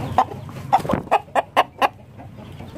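A chicken clucks in a quick run of about six short, close calls, with brief pauses between them and no talking.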